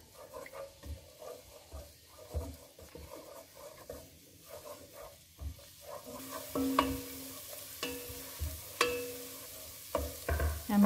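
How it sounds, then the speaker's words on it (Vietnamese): Quiet stirring and light sizzling of minced garlic frying in about two tablespoons of oil in a pan, with scattered scrapes and taps that grow a little louder toward the end. "Mình cho tỏi băm vào, mình phi trước nha."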